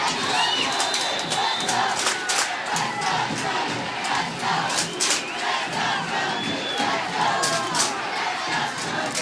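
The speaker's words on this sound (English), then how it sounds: "Very loud, very active crowd here tonight." Loud, sustained crowd noise from a packed stadium at a night high school football semifinal, cheering and shouting continuously with bursts of yelling throughout.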